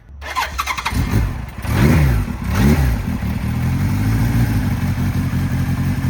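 A 1973 Kawasaki Z1 motorcycle engine, already warm, runs loud and close, with a couple of throttle blips early on before it settles into a steady, continuous idle.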